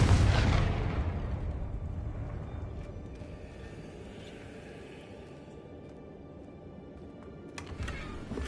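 A Confringo blasting spell goes off in Hogwarts Legacy: one deep, loud boom that rolls into a fading low rumble, followed by faint scattered clicks near the end.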